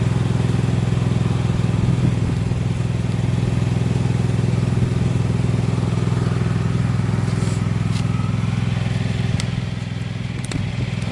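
A tractor engine idles nearby with a steady low rumble and rattling clatter, a few faint clicks on top.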